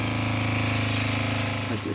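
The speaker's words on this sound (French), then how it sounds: "On entend le petit moteur là." Small electric motor of a motorized valve, part of a heating setup with an expansion vessel, humming steadily and close for about two seconds before cutting off at the end.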